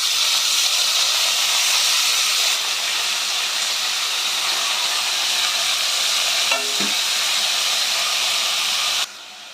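Ridge gourd and soaked chana dal fry and get stirred in a pan with mustard seeds, onion and curry leaves. A steady loud hiss and sizzle runs throughout, with a brief scrape of stirring near the end and no talk.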